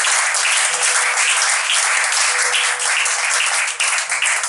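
A church congregation at a collective fasting and prayer meeting applauds loudly and continuously for several seconds. The dense clapping fills the room and tapers slightly at the very end.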